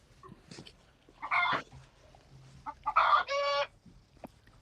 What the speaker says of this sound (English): That's definitely a chicken.